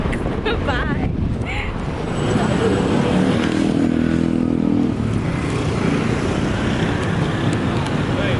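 Motorbike ride with heavy wind buffeting the microphone, a steady roaring rush of air and road noise throughout, with a brief voice near the start.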